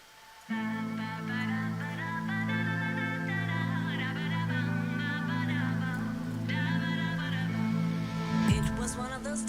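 A song played from a recording, steady sustained tones with a melodic line above, moderately loud and continuous, ending with a brief burst of noise.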